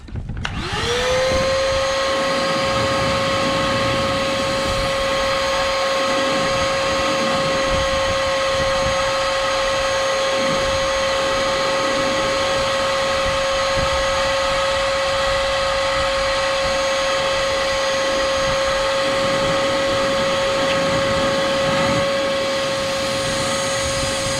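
A vacuum cleaner whines steadily at close range while cleaning a part of a 2013 Toyota Corolla, starting up and holding a constant high tone with shifting suction noise throughout, no talking.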